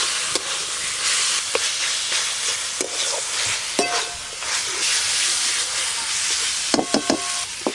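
Peeled onion petals fry in hot spiced oil for a rohu do pyaza, a steady close sizzle and hiss broken by sharp clacks of a spoon stirring against the pan.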